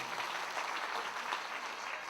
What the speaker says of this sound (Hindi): तो ताली तो बजाइए अपने दिल से